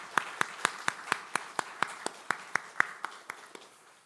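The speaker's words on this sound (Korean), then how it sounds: "교사 선생님들과 우리 학생들에게 격려의 박수를 부탁드립니다" Church congregation clapping in evenly spaced, steady strokes, about four per second, with each sharp clap standing out clearly over a quiet room.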